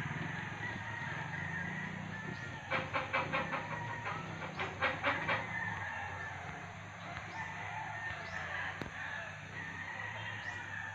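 Chickens and roosters on a farm, with several crowing calls rising in short bursts mid-clip over a steady, faint outdoor background of distant clucking and ambient noise.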